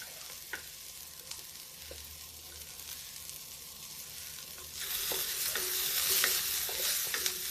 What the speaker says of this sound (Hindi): अभी थोड़ा सा प्याज भून गया